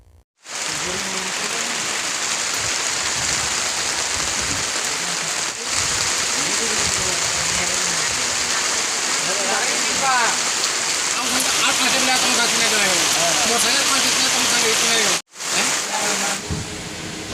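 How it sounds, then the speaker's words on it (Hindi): Heavy rain pours steadily and loudly close by on a roadside, a dense continuous rush with voices talking faintly beneath it at times. "बारिश बहुत हो रही रास्ते पे तो हम रुके हैं और कितना धमाकेदार बारिश है"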